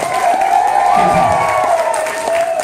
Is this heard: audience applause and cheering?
yes